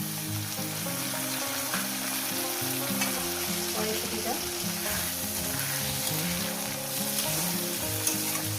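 Onions and tomato fry in a pan for a potato and green pea curry, a steady, close sizzle that runs unbroken throughout with no talking.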